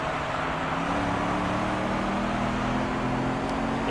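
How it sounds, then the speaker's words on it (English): Engine drone from a supercharged car racing in Gran Turismo 3, a steady sustained hum with a faint high whine layered over continuous road-like noise, unbroken throughout. "At least I think that's the sound of the supercharger."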